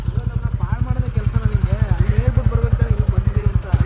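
A motorcycle engine runs close by with a steady, fast thumping idle throughout, while people talk over it.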